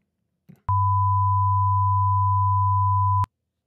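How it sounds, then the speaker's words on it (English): A generated 1000 hertz sine wave plays as a pure, steady, loud tone lasting about two and a half seconds, starting and stopping abruptly with a faint click before it begins. "let's do a 1000 hertz sine wave."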